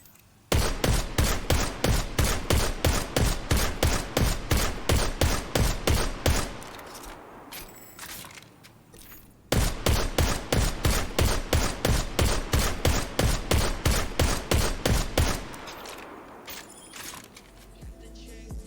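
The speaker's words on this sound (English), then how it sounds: "I picked this weapon because it's a scout rifle and it has a silencer" Suppressed scout rifle fire in Destiny 2, a steady rapid string of loud, evenly spaced shots, then a pause with a mechanical reload, then another long burst of regular shots before a brief clatter.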